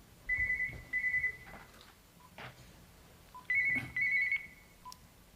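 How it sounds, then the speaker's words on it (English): Telephone ringing with a trilling electronic tone in two pairs of bursts, faint and somewhat distant in a quiet conference room. "excuse me while I just answer that phone."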